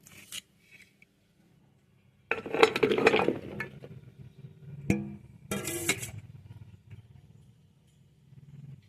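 Small cut pieces of bottle gourd tumble into a metal pressure cooker in a quiet kitchen, giving a few short bursts of clattering, clinking knocks with pauses in between.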